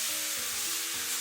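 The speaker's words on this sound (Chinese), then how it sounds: "料汁倒进去以后，要不停的给它煸炒，使料汁渗透到食材里面" Onion and egg sizzle and hiss in a wok with sauce, the spatula scraping and tossing in a steady rhythm, close and loud with no talking.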